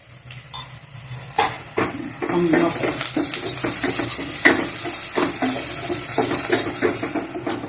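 Fried onion with turmeric and chili powder being stirred in a pan for gobi onion fry, steady sizzling under repeated scraping and clanking of a spoon against the pan, close.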